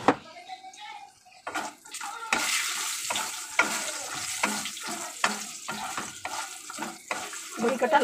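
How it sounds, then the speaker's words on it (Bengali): Bori lentil dumplings fry in a pan, a close crackling sizzle broken by repeated scraping stirs and bursts of spattering, with a voice speaking briefly near the start. "বড়ি কটা লাল করে ভেজে নেব।"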